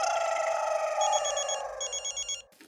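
A telephone bell rings loud and close in a continuous trill, then breaks into short repeated bursts before cutting off.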